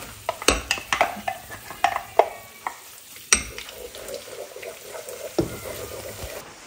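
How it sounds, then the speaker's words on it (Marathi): Masala spices go into hot oil in a clay kadhai, followed by an irregular series of spoon clinks and scrapes against the pot over a soft sizzle. Close and moderately quiet, with no talking. "तेल छान गरम झालं। आपण हा मसाला टाकतो"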